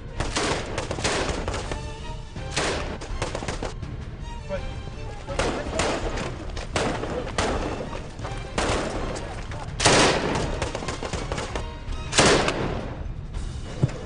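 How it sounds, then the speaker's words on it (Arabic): Very close gunfire cracks out during a house search by soldiers in orchards, with repeated sharp shots and bursts spread across the clip amid commotion and loud background noise. "وأثناء العمل بيفاجئنا إطلاق نار كتير قريب"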